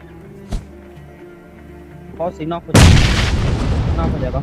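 A grenade explodes on an enemy squad in PUBG with one loud, sudden blast and a long rumbling tail, following a few faint in-game thumps and shuffles.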